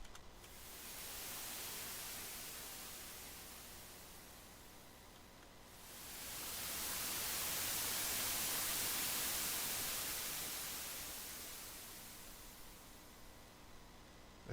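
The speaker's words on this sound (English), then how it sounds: "if you do this strange thing, this blur white noise, now you get some weird" A blurred white noise effect in music production software: a steady hiss swells in, dips, then returns louder and brighter for several seconds before slowly fading, with no voices.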